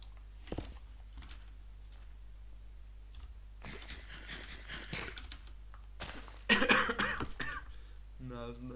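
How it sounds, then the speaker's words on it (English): A person coughing and clearing their throat near a microphone, a few sharp bursts amid computer keyboard typing and clicking, with a voice speaking at the end. "Now's not the time to cough."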